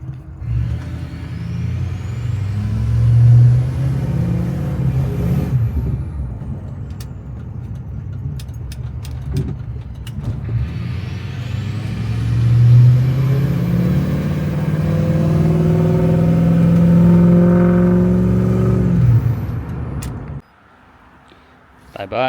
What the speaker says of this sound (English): Let's see how this thing cold starts.